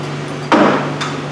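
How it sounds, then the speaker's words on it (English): A hammer knocks rust off parts under a Chevy/GMC truck, two sharp metallic strikes about half a second apart over a steady background hum. "Just a good pick and hammer,"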